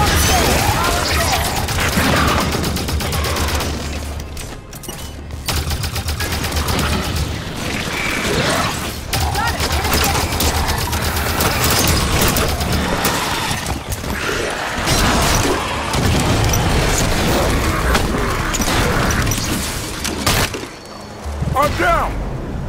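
Gunfire in Halo 5: Guardians combat, dense cracks and thuds of shots and impacts layered over loud game noise, with voices calling out between the bursts.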